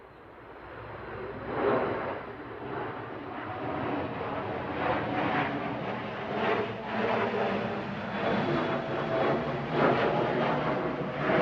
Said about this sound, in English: NetJets Europe departing down to London Biggin Hill